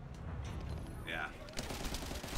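Video game gunfire rattling in bursts under a steady backdrop of game sound, mid-loud and slightly distant.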